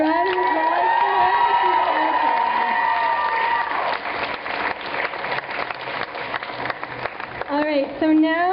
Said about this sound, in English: Can I get another round of applause for her?